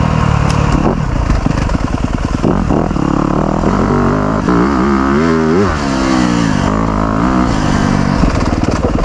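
A 2025 Yamaha YZ250F dirt bike being ridden: a loud, close four-stroke engine that revs up and down through repeated throttle blips and gear changes, continuous and dominant throughout.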